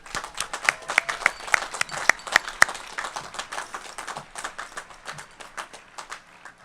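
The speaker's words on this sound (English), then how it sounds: "Could we please give them all a huge round of applause?" A crowd at a 2018 high school graduation ceremony gives a long round of applause, many hands clapping at once in a dense, lively patter that slowly thins toward the end.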